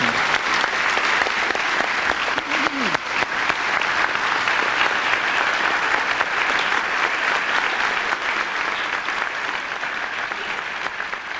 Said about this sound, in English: And let's clap hands for all the instructors for the demonstration.